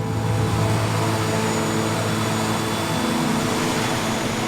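A small propeller plane lands at a tiny island airport, giving a steady, loud engine drone and broadband rush that holds level throughout, heard from close by inside or near the aircraft, with no voices.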